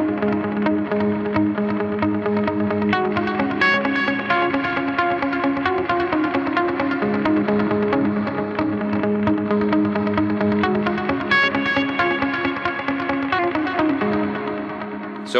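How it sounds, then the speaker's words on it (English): An electric guitar lead line plays through a dotted eighth-note delay, its repeating picked notes echoing in a steady rhythmic cascade with a light drive, loud and alone with no voice. "that's when that dotted 8th delay really comes in and really shines, is when you start picking in that second half of the bridge"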